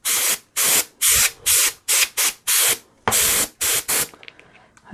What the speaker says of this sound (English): push the trigger and get just a little bit of air, if you can hear that.